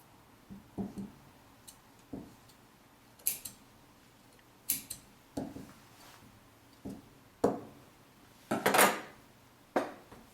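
Scissors snip through fabric along a trouser pattern during sewing, about a dozen sharp, separate cuts at an uneven pace, close and fairly quiet with no talk.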